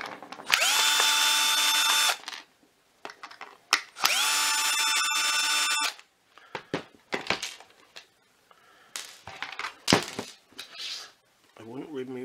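A power screwdriver removes screws from a Shark WandVac WV362UKT cordless vacuum power nozzle, with two loud, sustained whirring runs followed by clicks, rattles and plastic handling noises up close.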